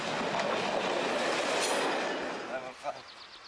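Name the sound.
class 228 diesel locomotive train passing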